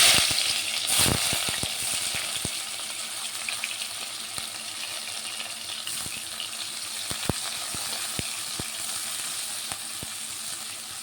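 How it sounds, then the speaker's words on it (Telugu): Chopped onion hits hot oil and fries with a loud, continuous sizzle, punctuated by scattered sharp pops and crackles that fade to a steady hiss over the following seconds. "ఆయిల్ వేడెక్కింది. మనం ఇందులో ఉల్లిగడ్డ వేసుకుందాం."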